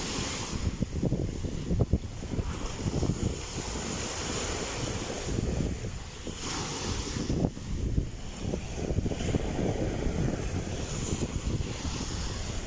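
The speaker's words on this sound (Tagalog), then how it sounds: "Lakas po ng alon po ngayon." Strong waves surging along a littered shoreline at Baseco in Tondo, Manila, on an overcast morning, a constant heavy roar of surf mixed with wind buffeting the microphone, with no voices.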